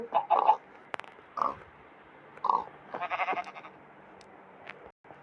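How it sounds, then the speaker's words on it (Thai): Sheep in a video game bleat several times in short bursts, with one longer wavering call near the end, all fairly close over quiet game ambience. "มีแกะอยู่"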